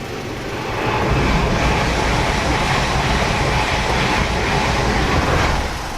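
A train rumbling across a railway crossing at night, heard from a car waiting nearby; a loud, steady roar of wagons with faint clatter that holds for the whole stretch.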